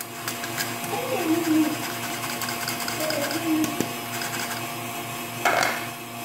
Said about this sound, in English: Put it into the shifter, and you just shift it in.